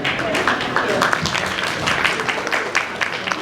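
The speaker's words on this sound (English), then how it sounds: "So please give a nice clap for Marilyn." School family-event audience clapping for a speaker, a loud, dense round of applause with crowd murmur and some voices mixed in, sustained evenly throughout.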